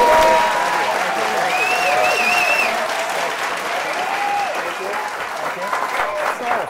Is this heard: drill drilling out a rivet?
no